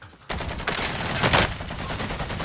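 Rapid automatic gunfire from a Call of Duty multiplayer match, a loud dense burst of overlapping shots that starts abruptly and keeps going with little pause.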